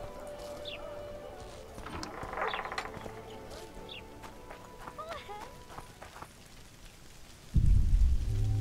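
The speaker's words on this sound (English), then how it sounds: "Oh, of course it's raining." Rain falling in the video game The Witcher 2, a soft continuous patter over ambient game sounds, with footsteps and a sudden louder rumble near the end.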